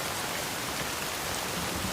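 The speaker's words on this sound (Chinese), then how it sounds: "天降大雨" Heavy rain pouring steadily during a halt on a muddy road where a horse-drawn carriage is stuck, a dense, even hiss without pauses or voices.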